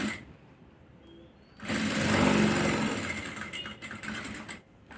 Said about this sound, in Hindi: अब हम यहाँ पर किनारे की सिलाई लगाएंगे